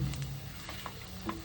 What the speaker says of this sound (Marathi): आता हे सुद्धा आपल्याला व्यवस्थित परतून घ्यायचं आहे.